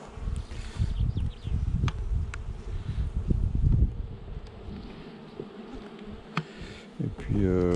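A honeybee colony hums and buzzes steadily around an open hive during queen rearing work, with individual bees droning close to the microphone, light wind noise and a brief voice near the end.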